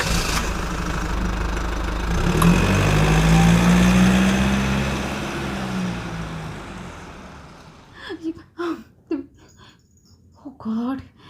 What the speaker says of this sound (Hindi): और उसने तेजी से गाड़ी भगाई।